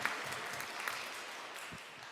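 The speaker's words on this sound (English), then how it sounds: "Round of applause for the audience, please." Quiet, brief applause from a theatre audience at the close of a production, soft continuous clapping heard at a distance.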